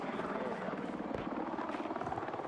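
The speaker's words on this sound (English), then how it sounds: "I've spotted a hostile helicopter in our mission" A hostile helicopter in a video game, its rotor a steady, rapid chopping thrum that fills the scene at moderate loudness with no talk over it.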